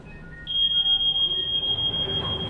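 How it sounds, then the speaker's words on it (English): A fire alarm sounds during a hospital drill, a loud, piercing continuous electronic tone that starts abruptly after a short quiet moment and holds steadily, with faint room noise underneath. "12:45, fire alarm goes off."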